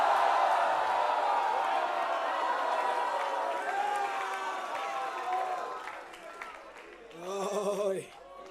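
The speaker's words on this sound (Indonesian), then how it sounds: "Terjadilah sorak-sorai." A large church congregation cheers and shouts, loud at first and gradually fading, with a voice rising briefly near the end.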